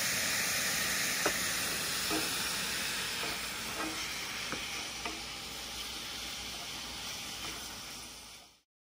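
Hamburger meat sizzles and hisses steadily in a pot outdoors while being cooked for chili, with faint, regular stirring scrapes heard now and then until the sound cuts off.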